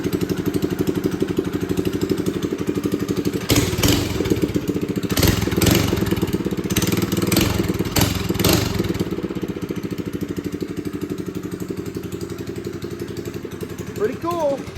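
Small minibike engine running steadily and loud up close, with a few brief louder revs midway before settling back to a constant idle-like drone; a voice talks briefly over it.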